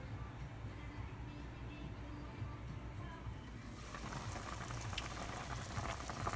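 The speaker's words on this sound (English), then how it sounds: "This has been bubbling away for about an hour" A pot of Jamaican oxtail simmers and bubbles after about an hour of cooking, a soft, continuous bubbling hiss that grows slightly louder and brighter partway through.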